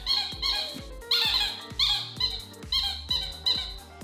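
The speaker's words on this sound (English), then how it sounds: "He follows the squeak." A squeaky dog toy squeaks repeatedly in a steady rhythm of sharp, bright, close squeaks, about one every half second, while a dog plays with it in a room.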